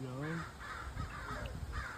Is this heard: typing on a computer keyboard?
no